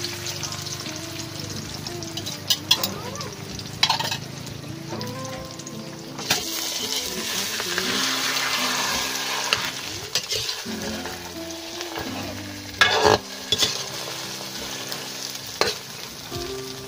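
Beaten egg sizzles and fries in a pan with vegetables and tomato, a steady close sizzle with occasional stirring and utensil scrapes throughout.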